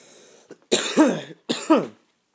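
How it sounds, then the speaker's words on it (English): Several harsh coughs close up, coming in two rough bursts with a brief pause between them. "I've been coughing and hacking all day."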